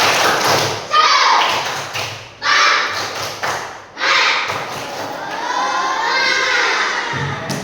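Schoolchildren in a classroom perform a rhythmic clapping chant, loud bursts of claps and thuds in groups separated by short pauses, mixed with children's voices calling out the routine.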